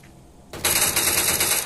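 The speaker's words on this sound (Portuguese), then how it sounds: "Vai dando bastante tiro Sombra." Rapid automatic gunfire bursts out in a competitive shooter match after a quieter moment, a dense loud rattling stream of shots that continues steadily to the end.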